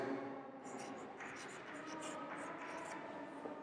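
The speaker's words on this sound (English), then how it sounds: "write the angles" Chalk or marker scratching out angle labels on a classroom board during a mathematics lesson on triangles, a steady close scraping texture with no clear pauses.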